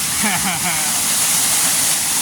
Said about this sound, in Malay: Air terjun yang pertama.